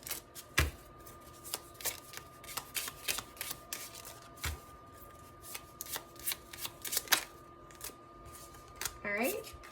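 Oracle cards are shuffled by hand over several seconds, with crisp riffling snaps and slaps coming in irregular bursts, close and clear, alongside a low voice.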